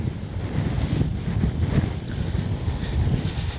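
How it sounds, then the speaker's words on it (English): Steady, blustery wind buffets the microphone with a low rumbling roar throughout, no voices, at an outdoor RC jet flying session. "Yeah, it's windy. It's very windy."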